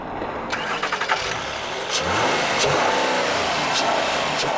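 An Acura TSX with a 3.5-litre VTEC V6 starts up and settles into a loud, steady idle and rev, heard close and alone.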